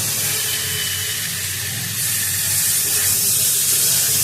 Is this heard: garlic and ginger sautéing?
yes